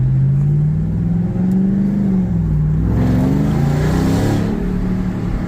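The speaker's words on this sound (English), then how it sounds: "You have to have that gnarly exhaust note" A truck with a loud exhaust revs and accelerates on town streets, its deep engine note rising and holding strong and close for several seconds, with no one talking.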